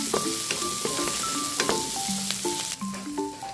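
Chopped tomatoes hit a hot pan of onions while cooking Pork Bicol Express, giving a steady, close sizzle with a few soft stirring knocks, and a melodic music bed plays underneath throughout.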